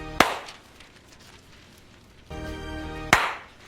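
Two sharp, loud hand claps, one at the start and one near the end, each a single crisp smack, with a quiet hum between them.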